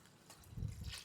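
Water is poured into a pot of boiled potatoes, a brief, soft splash and trickle that is close and quiet, with no voices.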